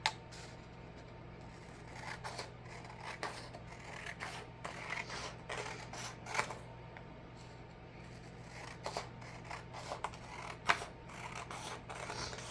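Scissors snip through paper while paper beads are made, quiet close cuts and soft rustles coming in irregular bursts over a faint steady hum.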